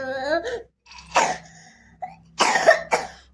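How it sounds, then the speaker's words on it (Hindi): A child's dry cough, several short hacking bursts close by separated by pauses, with a brief whimpering voice at the start. "कितनी रूखी खांसी हो रही मामा,"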